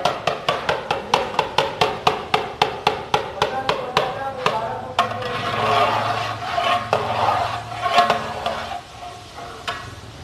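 A spoon scrapes and taps rhythmically in a pan of grated carrot halwa roasting in ghee, a steady run of sharp strokes that gives way to busier, softer stirring and faint sizzle.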